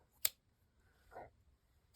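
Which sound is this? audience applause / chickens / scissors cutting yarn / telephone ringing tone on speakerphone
scissors cutting yarn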